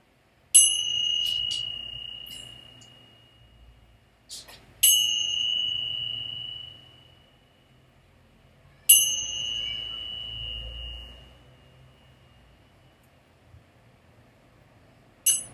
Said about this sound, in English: I'm just going to start off the practice with ringing a bell.